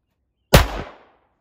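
A single sharp gunshot cracks out at an outdoor shooting range, close and loud, with a quick decaying tail and no talking over it.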